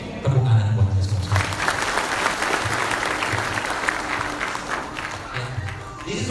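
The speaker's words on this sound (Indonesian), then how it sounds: "Tepuk tangan buat Anda semua" Audience applause after a talk, a sustained, even burst of many hands clapping from a sizable crowd, with a voice briefly heard at the start.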